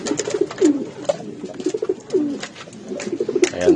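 Several pigeons coo in soft, repeated throaty phrases, overlapping one another close by, with faint rustling in between.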